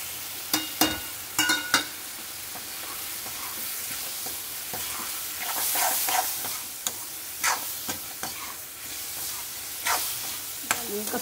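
Grated tomatoes and basic spices such as kasuri methi, red chilli, coriander, turmeric and salt fry in a pan with a continuous close sizzle, broken by a few sharp stirring clinks and scrapes and no talking.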